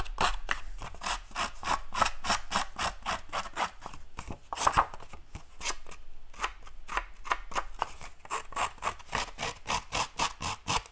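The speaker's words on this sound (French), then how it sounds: "Avec le côté de mon ciseau, là. Je viens y râper" Scissor blade edge rasping around the rim of a paper stencil to age it, a steady run of close, dry scraping strokes in quick repeated rhythm, alone without talk.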